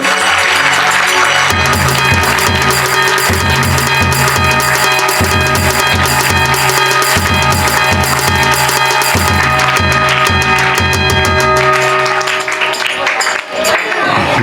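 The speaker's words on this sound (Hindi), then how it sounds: "इनके लिए जोरदार तालियां हो जाए एक बार। तालियां रुकनी नहीं चाहिए।" Sustained audience applause at a Jain devotional gathering in Dadar, loud and continuous, layered over rhythmic music with a steady beat and tonal melody throughout.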